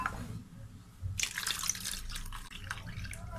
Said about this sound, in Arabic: غادي نزيد له الماء